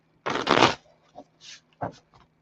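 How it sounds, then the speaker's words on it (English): A deck of tarot cards being shuffled close up: one long riffling burst, then a few short soft flicks and taps as the cards settle, with no talking. "One more shuffle"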